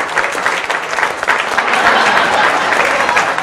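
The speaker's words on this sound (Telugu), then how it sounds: "ఒకసారి గట్టిగా చప్పట్లతో వారికి వెల్కమ్ చెప్దాం." A crowd in a Telugu TV comedy show audience claps loudly and continuously to welcome a guest, a thick, even wash of applause that holds steady throughout.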